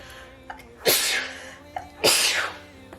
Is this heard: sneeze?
yes